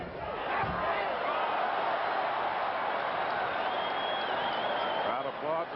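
A boxing arena crowd applauding during a Sugar Ray Leonard versus Marcos Geraldo bout, a steady wash of clapping and murmur with no talk over it, moderately distant.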